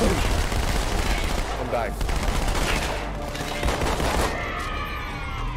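Rapid gunfire from a Halo firefight rattles on continuously, dense and loud, with bursts overlapping throughout while a player talks over the shooting.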